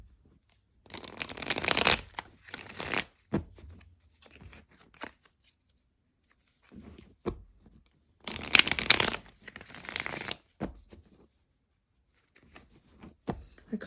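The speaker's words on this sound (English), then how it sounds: "The cards are all pre-shuffled, but I like to shuffle them on camera as well." Tarot cards being shuffled by hand in a few separate bursts of riffling and sliding, close and crisp, with quiet pauses and small handling taps in between.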